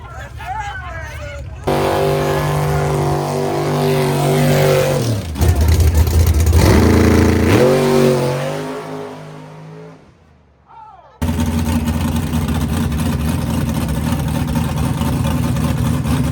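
A car with a big Ford engine revs hard, its loud, rising roar swelling over several seconds before dropping away briefly and returning as a steady close-up drone, with people talking nearby.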